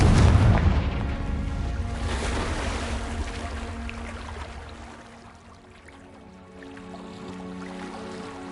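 A Confringo blasting curse from Hogwarts Legacy detonates in a heavy, close boom at the start, then a long rolling rumble that fades before a softer tonal swell returns.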